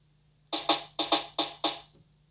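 Garage-style ghost snare sample layered into a jungle breakbeat, six crisp, punchy hits in a syncopated pattern, loud and alone with a short decay on each.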